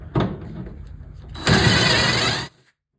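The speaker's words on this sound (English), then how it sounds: "use the 1/4-inch drill bit provided in the finishing kit to drill out the handle holes" A 1/4-inch drill bit bores through a casket sidewall from the inside out: a short motor burst, then a louder sustained whining drill run that cuts off abruptly.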